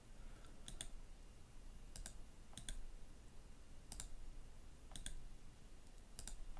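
A computer mouse clicks while laser show software is being operated, giving sparse, quiet, sharp clicks, some single and some in quick pairs, spread over a steady low background hum with no talking.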